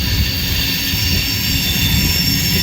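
A long freight train with SD40-2 and SD70MAC locomotives hauls propane tank cars past at close range, a loud continuous rumble with high steady wheel squeal and no talk.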